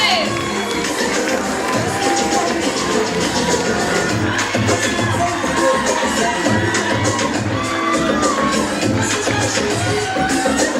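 A crowd at the Miss Vancouver 2015 pageant cheers and shouts loudly and continuously, with whoops and excited voices filling the whole stretch.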